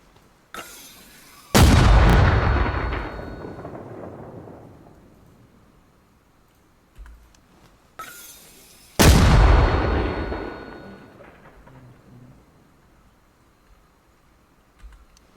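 Two loud artillery illumination rounds fired in the video game Arma Reforger, each a heavy boom with a long rumbling decay, spaced about seven seconds apart, with faint clicks between and no speech.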